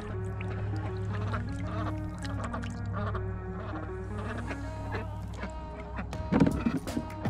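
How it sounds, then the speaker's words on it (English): Ducks quack at a pond being stocked with bass, repeated calls in a steady rhythm over a low constant hum, with a louder burst of splashing or flapping near the end. "Look at them ducks. Get out of here, ducks."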